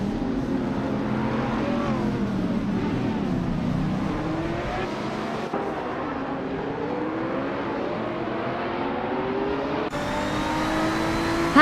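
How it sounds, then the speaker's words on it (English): Race cars in a racing video game, a steady engine drone with rising and falling pitch sweeps as cars overtake, continuous and fairly loud with no talk. "Doras Gabbana just overtook 3 cars in a flash to climb into 24th place"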